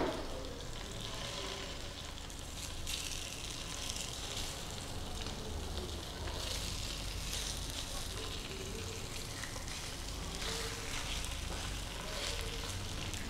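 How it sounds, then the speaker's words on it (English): Food frying in hot oil in a coated pan gives a continuous, dense sizzle that stays fairly even in loudness with crackling bursts, close by, and a voice is faintly present underneath. "make sure that pan is coated, make sure the oil is hot, and we're gonna stick it right in our pan."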